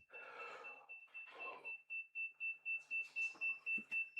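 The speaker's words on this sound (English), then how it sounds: "battery probably beeping at you" Repeated short electronic beeps pulse in a quick, regular rhythm, coming in after some muffled rustling noises.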